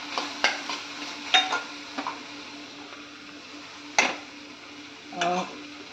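Prawns and Malvani masala being sautéed in a pan, a faint sizzle under sparse spatula scrapes and clinks against metal, close by and quiet between the strokes.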